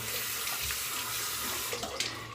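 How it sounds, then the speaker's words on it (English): Hands rinsed under a running water tap at a sink, a steady close hiss of flowing water with small splashes and shifts as the hands move through the stream, no talking. "Rinse my hands here."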